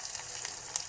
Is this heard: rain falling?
no